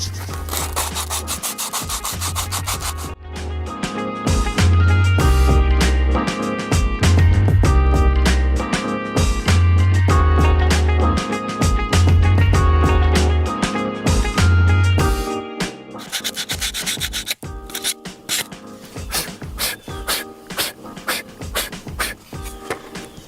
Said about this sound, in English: I'm gonna use this old sheet of grip tape and sand down the sides so the edges are smooth.